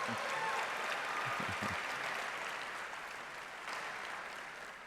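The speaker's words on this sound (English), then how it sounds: "How about a big hand for her and all those who have been inducted?" Dense audience applause for Hall of Fame inductees at an education conference, a continuous wash of many hands clapping with a few low voices briefly underneath, tapering slightly toward the end.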